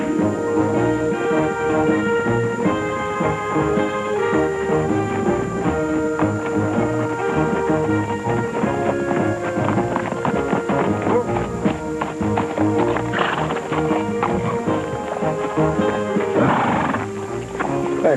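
Horses gallop with loud clip-clopping hooves and neigh repeatedly over music, while a voice talks throughout.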